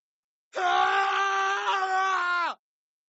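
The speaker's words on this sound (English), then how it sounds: "you hear that scream from that man" One man's sustained scream lasting about two seconds, loud and harsh, starting and stopping abruptly against silence.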